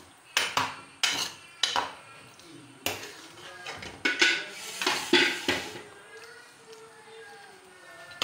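A metal spoon stirs spices in a kadhai for village-style biryani, giving sharp scraping clinks in an uneven rhythm, close and clear, with a person talking in between.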